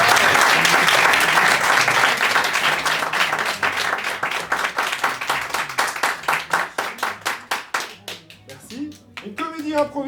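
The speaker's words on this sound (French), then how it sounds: "On les applaudit une dernière fois?" A theater audience at a Paris improv festival applauds the performers, starting as dense, loud applause that thins into rhythmic, slowing claps before fading out, with a voice briefly heard near the end.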